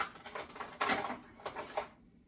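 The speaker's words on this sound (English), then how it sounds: "Bananas, so I'm just going to slice." A knife slices through bananas on a board, giving a few soft, irregular cutting taps and scrapes close by, with short pauses between strokes and no voices.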